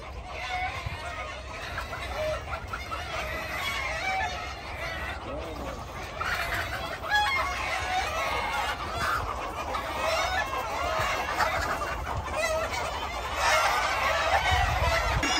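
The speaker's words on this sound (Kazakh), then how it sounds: "Короче, тауық көп екен мына кісіде" A large flock of chickens on a farm clucks almost continuously in a dense, close chorus, with faint voices murmuring underneath.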